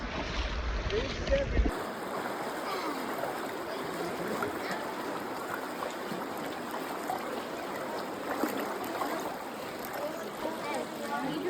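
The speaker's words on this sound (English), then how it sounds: "Just wading through the water, heading back from our hike in the Narrows." Steady rushing and sloshing of river water as someone wades through the Narrows on the way back from a hike, continuous and close throughout after a brief cut at the start.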